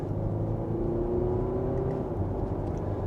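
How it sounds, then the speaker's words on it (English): Audi Q5 four-cylinder SUV engine under mild acceleration, a steady low hum with a faintly rising tone, heard from inside the cabin and fairly quiet. "you can tell it's not a loud vehicle from this 4-cylinder here"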